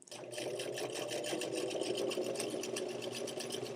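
A sewing machine runs steadily, top stitching the inside leg seam of black jeans, with a dense, even mechanical whir that holds for several seconds close up and without talk.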